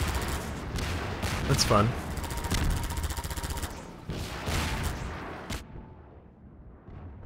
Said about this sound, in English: So you can shoot the rockets out of the sky, huh?